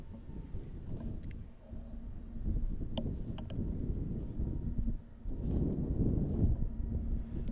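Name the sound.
wind at Amsterdam airport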